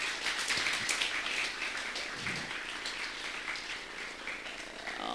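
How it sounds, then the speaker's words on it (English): Applause from an audience at an Islamic economics and law conference: a dense, steady patter of many hands clapping, fairly faint and even throughout, with no talking. "please let's give a big round of applause to Prof."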